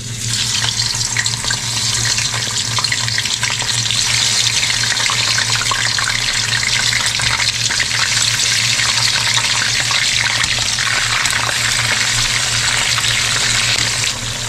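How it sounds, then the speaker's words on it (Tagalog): Fish frying in a wok-style kawali, a steady dense sizzle with constant crackle throughout, close and loud, with a low hum underneath and no talking. "Tapos ipiprito natin yan dito sa kawali."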